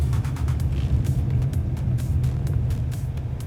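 A Jetour X70 Lightning i-DM hybrid SUV's petrol engine cutting in under hard acceleration, a steady low rumble heard from inside the cabin with no talk.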